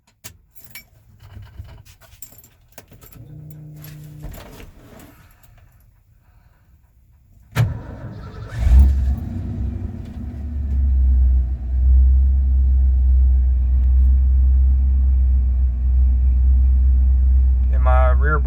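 A 1988 Ford F-150 pickup's 5.0 V8 engine starts and settles into a loud, low, rough, uneven idle, rumbling steadily after a stretch of quieter clatter and handling noises.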